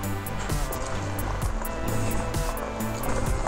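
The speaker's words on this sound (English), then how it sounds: "Just pedaling, no assist from the battery, no electric power, just your good old legs." An Indian eFTR electric bike is pedalled by leg power alone with no motor assist, giving a dense continuous rolling rumble of tyres and chain with rhythmic mechanical ticks, loud and close, with no talking.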